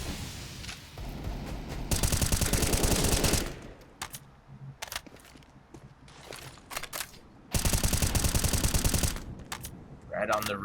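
Rapid automatic gunfire in a Counter-Strike match on Overpass, with two long sustained bursts separated by scattered single shots, with a commentator talking underneath.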